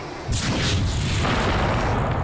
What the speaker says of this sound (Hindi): हमें शिप से दूर जाना होगा और फायरिंग करनी होगी।